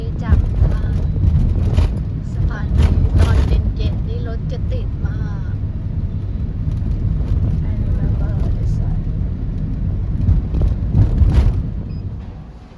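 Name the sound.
taxi driving from the airport into Hanoi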